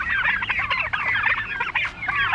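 Chickens cluck and squawk repeatedly, close and fairly loud, amid the busy bustle of an outdoor forest-food market in Dong village, Xaiphouthong district, Savannakhet, Laos.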